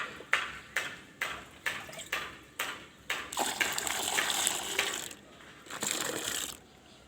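Fifty litres of water go into two containers to be given to pumpkin plants. A run of regular metallic clanks is followed by a steady rush of flowing water, close and moderately loud.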